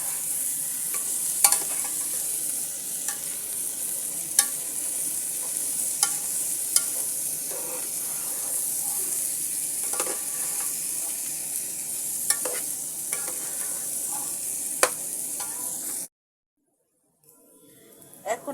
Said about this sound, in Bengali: পোলাওয়ের চালটা একটু ভেজে নিব।